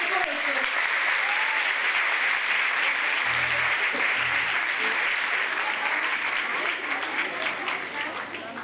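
Loud, dense applause from a concert audience welcoming the Nişantaşı Işık Orchestra Choir at a women's concert, sustained across the whole stretch and easing slightly near the end.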